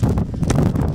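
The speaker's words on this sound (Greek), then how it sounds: "όπως μου ακούτε χαρακτηριστικά τον άνεμο" Strong wind gusts buffet the microphone at an outdoor football ground on Syros, a loud, continuous rumbling roar with no voices over it.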